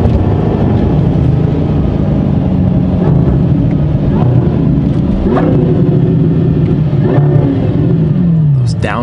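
A supercharged Audi R8 LMS race car engine roars loudly up close, revving hard with sharp rising and falling pitch sweeps from downshifts, blended with cabin rumble.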